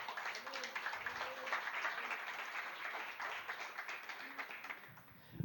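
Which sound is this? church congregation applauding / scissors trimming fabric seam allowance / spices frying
church congregation applauding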